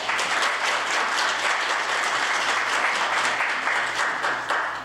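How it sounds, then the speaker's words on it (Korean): A crowd applauds continuously at a broadcasting policy debate forum, many hands clapping in a dense, steady roar that fades slightly at the end. "뜨거운 박수로 모셔보도록 하겠습니다"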